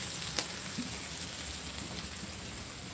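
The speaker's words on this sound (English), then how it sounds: "You're really frying those beans." Steady, dense sizzling and crackling of beans frying in hot oil, loud and continuous throughout, no voices.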